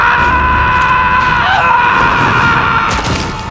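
Several people scream outside an apartment building, a steady, loud wash of distant shrieking and yelling that fills the whole stretch without pause.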